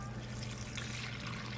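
Water is poured into a well in the flour for fougasse dough, a faint, steady trickle heard up close with a low background hum.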